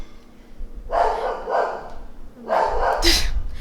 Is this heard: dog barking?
yes